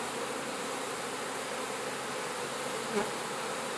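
Honey bees buzzing around an open hive during an inspection on day 13 after Nicot queen rearing, a dense continuous drone up close with one brief soft knock.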